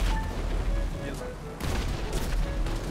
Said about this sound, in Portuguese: Olha lá, RD, metendo bala.